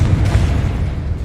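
A Confringo spell exploding in the video game Hogwarts Legacy, a loud, deep rumbling boom sustained through the moment with no voice over it.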